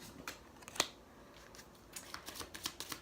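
Oracle cards are shuffled and drawn from a deck, making soft papery riffles and sharp flicks, quiet and close with irregular bursts of rustling.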